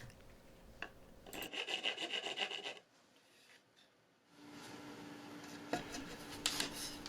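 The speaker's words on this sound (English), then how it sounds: "It just takes a little filing for the joint to fit." A hand file rasps against a plywood finger joint to fit it, with short rhythmic strokes, then a quieter pause, then steadier scraping that ends in a few sharper knocks.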